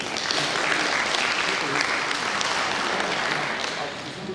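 Audience members at a Nigerian pharmaceutical manufacturers' quality improvement programme give a round of applause for a public health consultant, a thick, even burst of clapping filling the room for several seconds.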